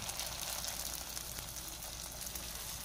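A steady, even sizzle of snacks made from lumpia wrappers frying in hot oil, close and continuous with no talking.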